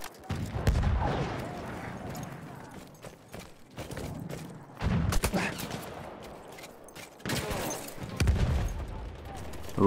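Scattered gunfire in the World War I shooter Battlefield 1, irregular sharp shots and rumbling bursts at varying distances over constant battlefield noise, with voices in the mix.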